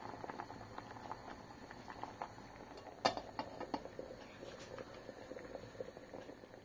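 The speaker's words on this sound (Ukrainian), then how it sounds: "Вариться, як звичайна картопля." Potatoes simmer in a pot of water, giving a quiet, close bubbling with soft irregular pops and one sharper crackle midway, all faint and without voices.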